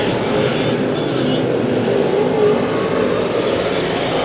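IMCA Modified race cars at Santa Maria Raceway drone steadily on a restart, a continuous mid-distance engine roar with a commentator talking over it.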